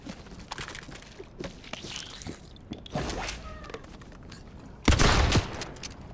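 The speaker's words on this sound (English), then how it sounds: "I accidentally discharged my shotgun in the house." Shotgun discharged inside a house in a video game, a loud sharp blast near the end after scattered footsteps and clatter, the boom ringing briefly.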